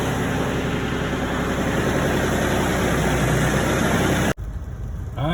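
A Massey tractor engine idles steadily after a cold start in freezing weather, a loud, close, continuous low rumble that cuts out abruptly near the end, leaving quieter background sound.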